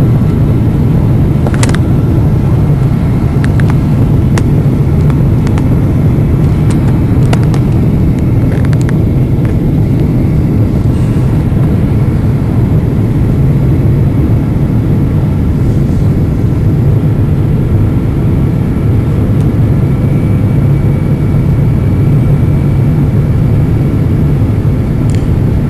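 Cabin noise aboard a Continental Airlines Boeing 777-200 landing at Newark after a flight from Hong Kong: a loud, constant low engine and air roar throughout, with faint clicks and rattles in the cabin.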